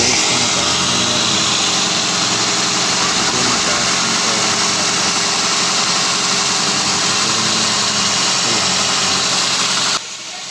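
A Toyota bB engine idles at about 1000 RPM after its VVT-i solenoid and filter were cleaned, producing a loud, steady, close hum with even vibration that drops off abruptly near the end.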